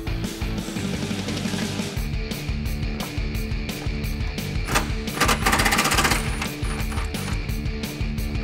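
A power tool rattles and hammers steadily for several seconds while removing a bolt on a 2009-2018 Ram 1500 5.7L, a loud continuous mechanical chatter with a brief surge in intensity midway.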